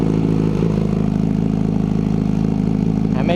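Kawasaki Z900SE motorcycle engine on a cold start, idling loud and steady with a constant, even drone that holds unchanged throughout, with no talk over it.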